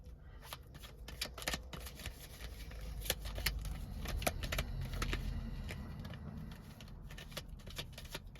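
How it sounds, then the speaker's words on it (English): Tarot cards being shuffled repeatedly, a rapid run of crisp flicks and riffles close by, continuing throughout without speech. "I'm going to just shuffle and see what jumps out for us."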